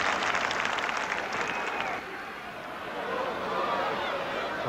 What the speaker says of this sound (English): The applause though for Hans Gillhaus.